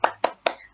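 A classroom spirit clap: three quick, sharp hand claps in an even rhythm, close and fairly loud, each cutting off cleanly before the next.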